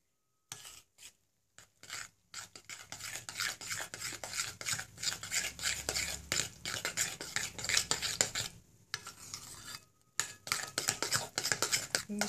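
A spoon scrapes and rasps round a bowl while batter with a cinnamon mixture is stirred, the strokes repeating in quick uneven bursts with short pauses, close and clear, with no one talking.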